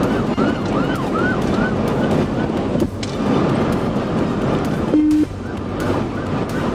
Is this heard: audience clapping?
no